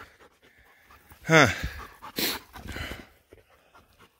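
A dog on a shed antler hunt pants in quick breathy bursts close by, with soft whimpers mixed in, while a man murmurs briefly.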